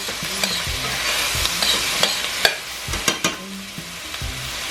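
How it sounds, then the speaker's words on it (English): Garlic sizzles steadily in a hot pan while a utensil stirs it, making a constant frying hiss broken by repeated scraping knocks, close and clear with no talk. "Stir it around."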